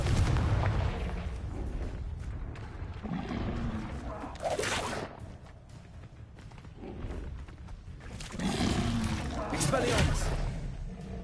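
Confringo spell blasts in a Hogwarts video game: heavy booming explosions burst out repeatedly amid a chaotic duel with other spell impacts, a voice shouting spell names over the clamor.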